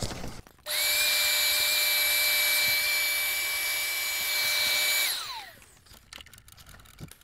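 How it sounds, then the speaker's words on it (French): A vacuum cleaner used while replacing a vertical wind turbine's alternator starts abruptly and runs with a loud, steady high whine for about four seconds, then winds down with a falling pitch. "Bon, un petit coup d'aspirateur par-dessus ça,"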